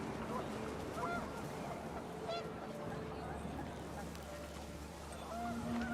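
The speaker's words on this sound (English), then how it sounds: "panicked geese appeared and quickly went" Panicked geese honking in the video game What Remains of Edith Finch, several scattered calls over steady wind and low ambient rumble, moderately distant.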